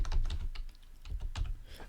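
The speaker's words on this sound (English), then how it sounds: "So I'm typing lorem 1000, which is a lot." A computer keyboard clatters with quick, uneven keystrokes while someone types text into a code editor. The typing is close and fairly quiet, with a brief pause midway, and nobody speaks.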